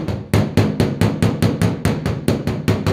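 A body hammer taps the metal panel of a 1966 Ford Galaxie 500 convertible in a quick, steady rhythm, about a dozen sharp clanging strikes, close and even in loudness.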